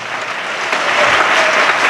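A church congregation claps hands together in a sustained, loud burst of applause that swells slightly and holds steady, filling the room without any voices on top.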